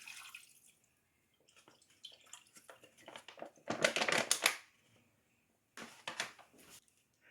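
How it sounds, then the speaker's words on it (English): Negishio broth pours and splashes into a pan in a couple of bursts, a steady watery rush with short gaps between pours. "Just going to pour that straight into the pan."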